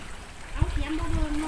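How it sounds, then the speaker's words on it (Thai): Water of a mountain stream flows with a steady, close wash and trickle, running continuously beneath someone talking. "น้ำลงมาจากภูเขา"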